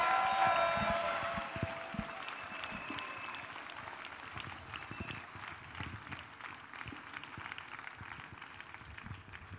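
Congregation clapping in worship to Jesus Christ at a church gathering, a steady patter of many hands that starts after a brief tone and continues evenly, moderately loud throughout.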